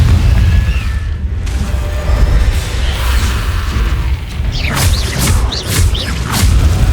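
A Confringo fire spell in Hogwarts Legacy bursts with a deep boom under a dense rumbling battle bed, followed by a string of bright whooshing, crackling sparks toward the end.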